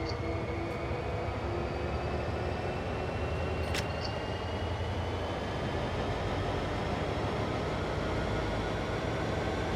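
A train simulator game train rolls slowly with a steady low rumble and continuous rail noise, joined by a faint high whine and a brief click near the middle; no talking.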